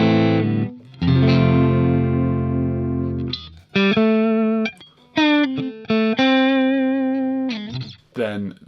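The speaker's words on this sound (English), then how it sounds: "Then the middle pickup on its own sounds like this" An electric guitar played through its middle pickup alone sounds a held chord and then a run of picked single notes and short phrases with brief gaps, close and bright with effects coloring the tone.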